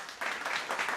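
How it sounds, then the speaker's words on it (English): Brief hand clapping during a podcast conversation, a quick run of several claps, moderately close and alone with no talk over it. "I gotta clap that one, man."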